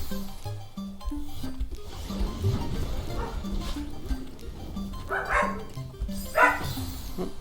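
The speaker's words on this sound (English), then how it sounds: "sorry about dog barks" A dog barks repeatedly indoors, with a series of sharp woofs and yips scattered across the stretch, moderately loud over a steady electronic game music background with a short whimper near the end.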